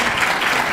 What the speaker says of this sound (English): please just join me with a round of applause for Terry Savage